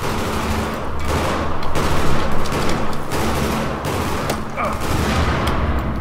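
Gunfire in the video game Battlefield 4 on a hard-difficulty South China Sea mission: a dense, loud volley of shots and explosions rolls on for the whole stretch, with bursts layered over constant battle noise.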